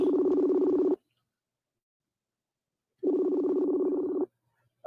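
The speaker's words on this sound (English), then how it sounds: "Okay, let me place the call again." Outgoing phone call ringback tone: two steady, loud electronic ring bursts about a second each, separated by roughly two seconds of silence, heard alone with no talking.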